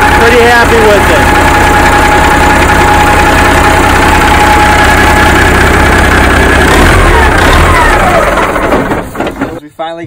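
A Peterbilt 379 truck engine, newly restored and started, idles with a loud, steady rumbling diesel drone and faint knocking, close up, before fading near the end; voices may be faintly present.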